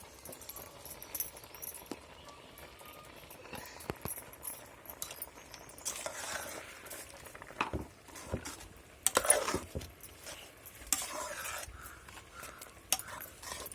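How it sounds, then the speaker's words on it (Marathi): Ground chutney and coconut paste going into a cooking pan for kavla vegetable, with soft scraping, clatter and patter of a spoon against the pan, quiet and close, no talking. "आता वाटण टाकतोय एवढा चटणी आणि खोबरं"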